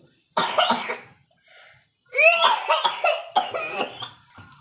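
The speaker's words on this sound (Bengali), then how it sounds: "কাশি তো অনেকটা এসে" A child coughs in a loud, close burst, then after a short pause lets out a run of rapid, breathy coughing sounds that border on laughter, indoors with no speech.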